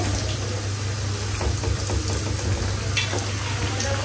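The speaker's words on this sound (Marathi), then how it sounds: "इथं मी फ्राय करते." Colocasia leaf vadi frying in oil, a dense continuous bubbling sizzle heard up close with a steady low hum underneath.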